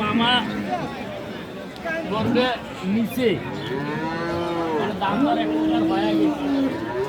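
Friesian cows lowing at a busy rural cattle market, several long, loud moos close by over a constant babble of crowd voices and people talking.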